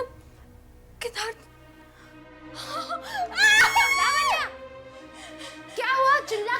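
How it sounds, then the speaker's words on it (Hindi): A woman in a Hindi horror TV serial screams in high, wavering, strained cries, with a first short burst and then a longer, louder wail, against a quiet background with spoken voices around it. "चिल्ला क्यों रही हो?"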